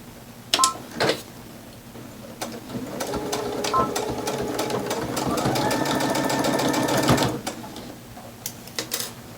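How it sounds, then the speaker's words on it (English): A sewing machine top-stitches a seam on a fabric face mask with jersey knit ties, running in a steady close whir of rapid needle beats after a few short starts, with a brief stop and some handling sounds. "So I'm going to sew just kind of over the same seam that I top stitched"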